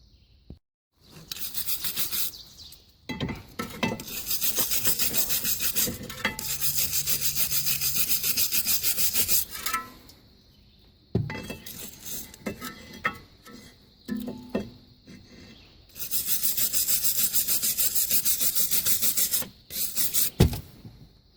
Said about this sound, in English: You can see the rust buildup on the bottom there. So we're going to go ahead and wire brush that down